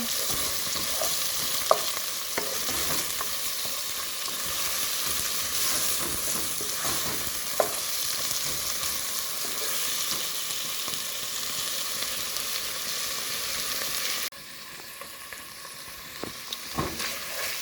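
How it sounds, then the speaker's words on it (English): Chopped seasoning with scallion sizzles steadily in hot oil in a pan, a loud continuous frying hiss with occasional stirring scrapes and clicks, dropping briefly quieter near the end; no talking. "I'm gonna saute this, allow it to get tender."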